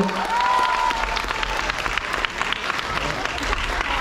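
A crowd claps steadily in sustained applause, with a brief voice at the start and dense clapping throughout.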